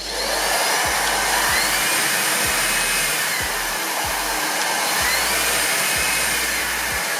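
An AiDot Ganiza V25 cordless vacuum cleaner runs close by with a steady high-pitched motor whine and airy rush, unbroken throughout.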